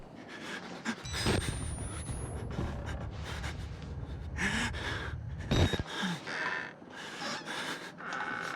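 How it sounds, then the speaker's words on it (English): Heavy, rapid panting and gasping from the player character in the Outlast horror video game, loud and close, with ragged breaths continuing throughout. "Stop breathing so hard"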